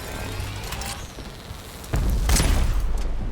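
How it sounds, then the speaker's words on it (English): Weapon fire in the vehicle combat game Crossout: a few booming shots, with a heavier blast near the middle followed by rumbling low impacts and a lingering roar. "You can shoot quick if you want."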